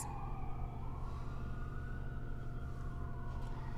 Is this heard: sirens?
yes